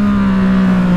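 A Yamaha MT-09 motorcycle engine holds a loud, close, steady drone with a strong buzzing tone during a brief burst of acceleration.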